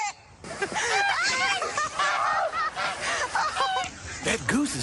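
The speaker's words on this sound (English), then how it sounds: "Uh-oh, goose attack!" A goose honks loudly and repeatedly while attacking, with harsh, rapid calls close by that come in bursts through the clip.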